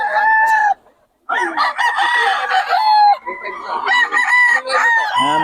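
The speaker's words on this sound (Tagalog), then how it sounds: "Yung ganda ng manok niya ni Boss Ben." Roosters crow loudly and close, one call after another with overlapping clucking from other fowl and a brief pause between crows.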